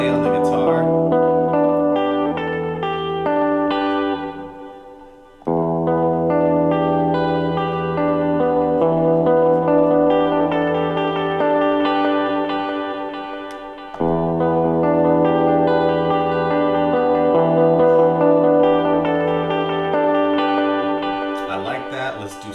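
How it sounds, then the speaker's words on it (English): A sampled guitar plays on a Roland P-6 through a delay effect, sustained chords ringing and echoing in long, loud phrases with two brief drops between passages. "I'm going to mess with the delay on the guitar."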